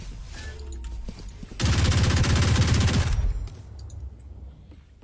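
Gunfire from a tactical shooter video game rings out in a loud, dense automatic burst lasting about a second and a half, framed by quieter game ambience before and after.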